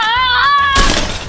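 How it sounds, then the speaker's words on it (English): Race car crash in an animated Cars 3 demolition race scene, a loud sudden smash and crunch of metal that cuts across a sustained voice, close and dominant. "Oh no, Cal crashed."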